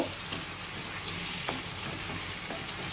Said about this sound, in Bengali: এখানে পেঁয়াজ রসুন আদা একসঙ্গে পেস্ট করা আছে, সেই মশলাটা দিয়ে দিলাম। এটা দিয়েও হালকা করে একটু ভেজে নেব।